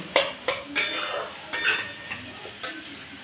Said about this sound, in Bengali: এইভাবে ভালো করে আমি কষিয়ে নেব।